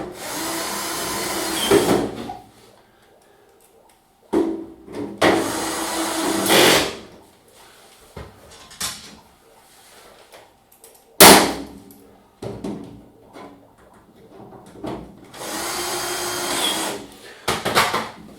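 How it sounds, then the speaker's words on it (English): A screwdriver drives screws back into a panel in bursts of whirring and grinding, several separate runs of a few seconds each, separated by quiet pauses and small clicks and knocks nearby. "So just line the hole up and screw it back in."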